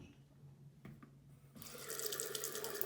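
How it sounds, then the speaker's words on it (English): Water from a bathroom sink faucet gushes on and runs steadily at close range, a loud continuous hiss following a couple of brief clicks. "So I'm going to turn the water on."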